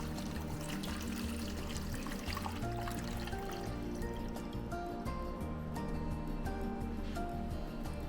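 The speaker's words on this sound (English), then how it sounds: "I'm now gonna put some water in here." Water poured into an EcoFlow Glacier portable cooler's ice-making reservoir, a continuous splashing, trickling fill that runs steadily and close up, fairly quiet.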